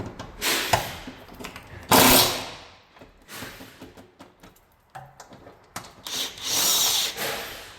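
A power tool working an old rusted bolt off a rotted truck crossmember, loud ragged bursts of impact-style rattling and whirring separated by pauses, close up.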